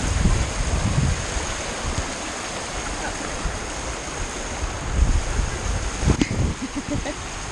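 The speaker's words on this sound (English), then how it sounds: "We're gonna go down. All of these natural waterfalls together." Rushing water of natural waterfalls and slides at Slide Rock State Park, a continuous broadband roar close by with some wind buffeting on the microphone and brief voices mixed in.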